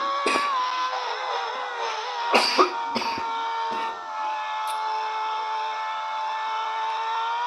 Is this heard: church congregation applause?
no